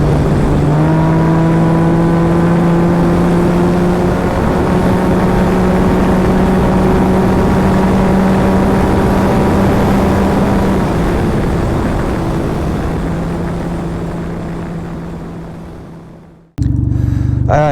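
A Can-Am Ryker three-wheeler's engine revs hard and close during an acceleration run, a sustained rising drone that holds high before trailing off near the end, followed by a brief burst of other sound.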